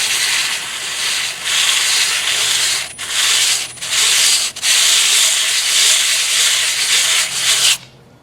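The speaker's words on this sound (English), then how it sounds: "Let's just start sanding." An ALTOCRAFT 12V cordless sander with a disc of coarse-grit sandpaper grinds loudly and steadily against a surface, a harsh broadband rasp broken by a few brief lifts before it stops abruptly.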